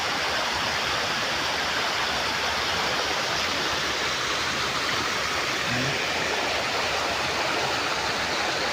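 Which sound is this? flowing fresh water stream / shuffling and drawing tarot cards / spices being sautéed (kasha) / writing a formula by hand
flowing fresh water stream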